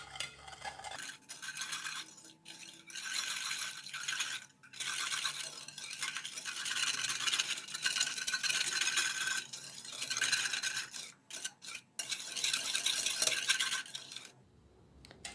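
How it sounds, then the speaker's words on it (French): Sugar and sunflower oil are whisked together in a bowl for a chocolate cake, a close, gritty scraping and swishing that runs in uneven bursts with brief pauses. "Le sucre et huile végétale ou tournesol et je mélange."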